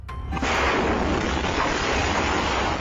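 A gas leak explosion at a luxury house in Medan, caught on home CCTV, opens with a sudden, very loud blast. A sustained roaring rumble of destruction follows, with no speech.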